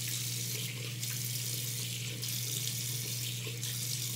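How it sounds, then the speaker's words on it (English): Cold water runs steadily from a tap into a sink, a close, continuous broadband splash with a low steady hum beneath and slight surges in the flow, with no voices. "We're gonna put on cold water now."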